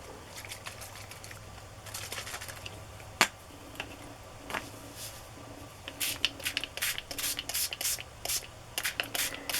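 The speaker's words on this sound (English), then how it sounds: "And I'm going to spray it with pink." Short hissing bursts of an aerosol spray can, scattered at first, then coming in quicker succession, heard up close.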